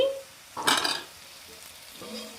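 Chicken frying in a pan gives a short, loud burst of sizzling that rises and fades within about half a second, with quiet stretches on either side.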